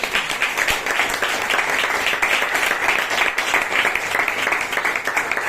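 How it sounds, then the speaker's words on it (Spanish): A church congregation claps for God at a Sunday service, a dense, sustained round of applause with even, continuous hand-clapping heard up close. "Bríndele un aplauso al Señor."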